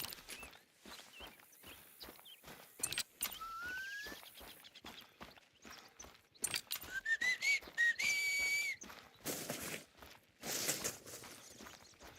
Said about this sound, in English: Sorry about the constant whistling, guys, but he is very discontent.